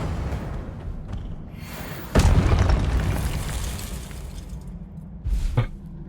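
Confringo spell blasts in the Hogwarts Legacy video game: two sharp booming explosions, a loud one that decays slowly into a rumbling tail, then a shorter burst near the end, over a low ambient game background.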